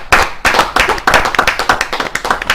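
Studio audience clapping in a TV talk-show setting, a burst of many hands in steady rhythmic waves, loud and close, with no voices over it.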